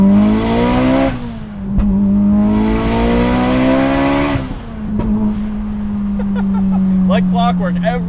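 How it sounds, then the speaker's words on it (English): A 750 hp Mitsubishi Evo X race car on a stock block accelerates hard, its engine note rising through gears, with sharp pops and crackles at each shift; loud and close, with people talking inside. "Like clockwork, every shift it's got the backfire on it."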